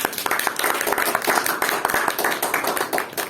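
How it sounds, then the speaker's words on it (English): A small audience applauding at a Toastmasters club meeting, with dense, steady clapping at moderate loudness close to the microphone. "Round of applause for Sophie."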